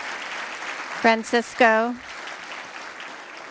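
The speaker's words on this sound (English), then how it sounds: "giving us an opportunity to give you a big round of applause" An audience applauds a Silicon Valley Reads author standing at a kickoff event, a steady wash of clapping running under a man's brief spoken words.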